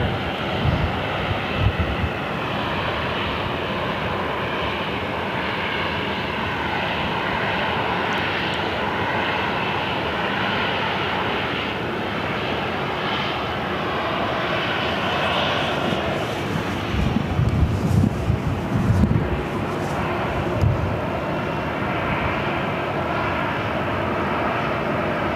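Jet airliner on its takeoff roll from runway 7 left at Phoenix Sky Harbor, a loud sustained engine roar that stays strong and steady throughout, with some wind buffeting on the microphone.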